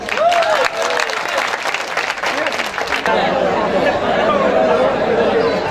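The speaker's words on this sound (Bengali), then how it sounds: "করতালি দিতে সমস্যা কি" Audience at a high school ex-students' forum program applauding under continuous crowd chatter, with a voice talking over the first half before the clapping settles into a steady, dense wash.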